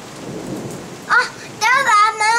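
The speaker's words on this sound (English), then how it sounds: "Thunder." Thunder rumbles through a rainstorm over steady rain noise, with a short loud burst partway through; a voice calls out over the storm near the end.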